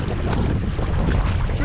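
Wind rushing and buffeting a microphone on a river kayaking trip on the River Spey, a steady broadband roar filling the whole short moment with a faint voice underneath.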